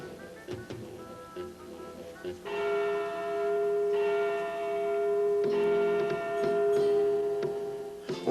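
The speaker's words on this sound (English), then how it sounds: "Or the sound of bells chiming in the clock tower would transport you to the town square" Bells chime in a clock tower, one sustained ringing tone with rich overtones after a few soft knocks, held loud and steady for several seconds before fading near the end.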